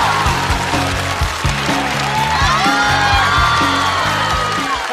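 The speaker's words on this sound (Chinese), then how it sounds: "让我们掌声欢迎" Audience at a Chinese roast comedy show clapping and cheering loudly, continuous applause with whoops while a voice speaks over it.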